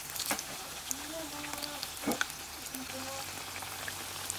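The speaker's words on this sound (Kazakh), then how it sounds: "Дайын болған чебурекиларымызды ыстық майда 2 беті қызарғанша қуыратын" Chebureki fry in hot oil until both sides brown, a steady close sizzle and crackle with occasional pops, running under a voice speaking softly.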